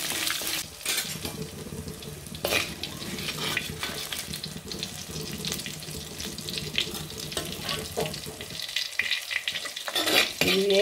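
Curry leaves frying in a pan for a tempering, with steady sizzling and crackling broken by repeated scraping stirs of a spoon against the pan, loud and close with no talking.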